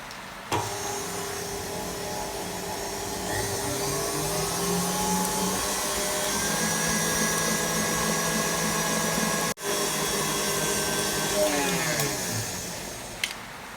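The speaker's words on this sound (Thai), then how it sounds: "ใส่นมเปรี้ยวลงไปเลยนะคะ ตีความเร็วปานกลางจนเขาเข้ากันค่ะ" An electric hand mixer beats cake batter with yogurt at medium speed for a jam roll, a close, steady motor whine with shifting pitch as the beaters move through the bowl, and a brief knock near the end.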